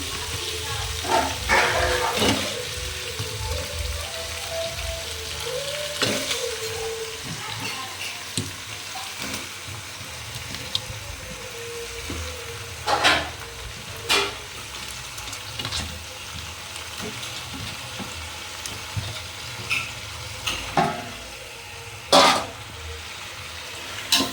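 Washed chicken pieces hit a hot pan of ginger-garlic paste for chicken dum biryani, giving a steady low sizzle with occasional sharp clatters of stirring, while a voice talks intermittently over the cooking.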